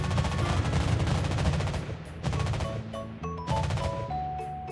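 Dense, rapid anti-aircraft gunfire from a British destroyer, the Daring, in the naval video game World of Warships Blitz: loud, continuous rattling bursts that keep up throughout, with brief dips and surges in intensity.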